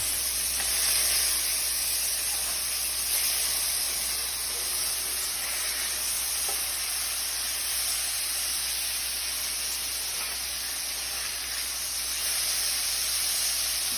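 Burgers searing in a hot pan, a loud, continuous broad sizzle and hiss that holds steady for the whole stretch, close up with a few faint pops and crackles and no talking.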